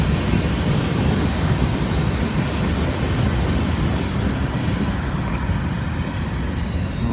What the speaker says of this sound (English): it's a good chance there's a coal train on the way